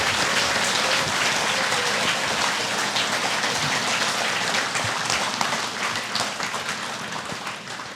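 An audience at a Buddhist lecture claps in a dense, sustained burst of applause, with broadband patter heard close and steady throughout and tapering slightly toward the end.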